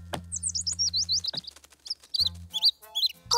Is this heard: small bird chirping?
yes